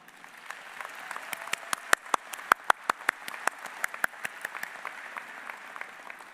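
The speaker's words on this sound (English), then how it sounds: "So a big round of applause to all of you." Graduation ceremony audience applause, a scattered crowd of clapping with individual sharp claps standing out over a steady background patter, moderately loud and continuous throughout.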